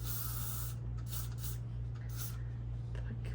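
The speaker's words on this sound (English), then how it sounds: "This is a very fine spray." Satin extra strong hold unscented hairspray releases a fine aerosol as a steady hiss with several short bursts, close by, over a constant low electrical hum.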